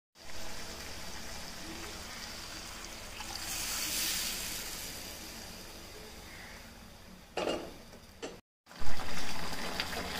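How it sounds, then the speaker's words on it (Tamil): Mutton cooking water is poured into an onion curry in a pan, giving a soft, continuous hiss and trickle at low volume, with a brief louder splash near the end. "கறி வேக வச்ச தண்ணியை அதில் ஊற்றிடலாம்."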